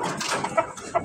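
A laying hen kept for breeding on a farm gives two short, close clucks over faint background noise.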